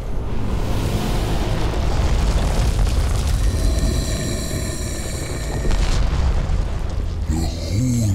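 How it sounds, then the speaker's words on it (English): A giant horn blown in the game Darksiders to open a gate: a loud, sustained low tone with harmonic layers that swells for several seconds over a constant rumbling game background, then fades as music enters. "This is a giant horn, so let's activate the gate."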